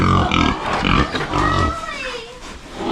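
Pigs grunt and squeal inside a pig pen on a rural farm, close and loud, overlapping in a busy jumble with a long rising squeal near the end.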